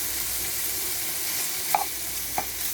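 Diced bacon frying in a pan over medium-high heat, a steady soft sizzle with a couple of brief stirring clicks, close and alone.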